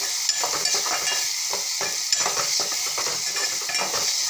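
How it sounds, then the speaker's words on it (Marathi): Tomato chutney frying with red chilli powder, coriander powder, turmeric and salt, a bright steady sizzle under repeated rhythmic spatula stirring and scraping against the pan, close and with no talk. "तर छान असं मस्त परतून घेते"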